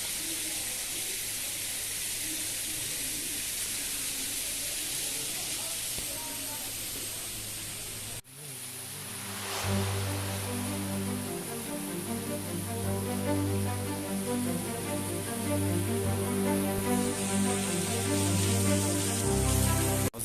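Clear water flowing at a shrine in Diyarbakır, a continuous rushing stream heard close, with a sudden shift partway as the sound swells fuller and louder.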